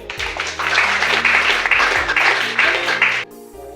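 Applause from wedding guests after the vows, loud sustained clapping from a crowd lasting about three seconds before stopping abruptly, with a low musical hum underneath.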